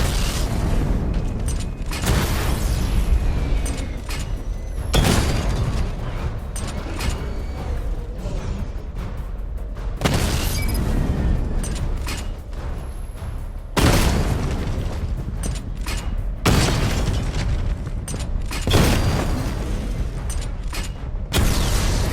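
Repeated missile barrage explosions in Batman: Arkham Knight, several heavy booming blasts at roughly even intervals with mechanical creaks and rumble between them, loud and close.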